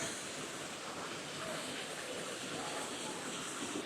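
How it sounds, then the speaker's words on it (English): Waterfall in a forest, a steady faint broadband rush of falling water heard from a distance, continuous and even with no voices over it. "I can hear a waterfall and I can see the top of one."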